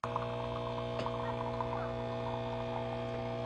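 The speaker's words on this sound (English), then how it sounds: "Now pull your shot." An espresso machine pulls a shot with a steady, loud pump hum and a droning tone that holds throughout, broken by a single faint click.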